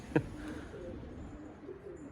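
Pigeons at a loft give soft, low cooing that drifts on steadily and faintly after a brief sharp knock near the start, with no voices.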